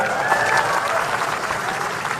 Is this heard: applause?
yes